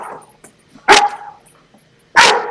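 A dog barks twice, loudly and close, with a soft whimper and a few faint yips in between.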